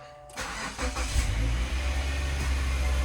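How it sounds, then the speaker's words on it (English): A car engine cranks and catches, then settles into a steady rumbling idle close by, with no one speaking. "let's start up the car and turn this thing on"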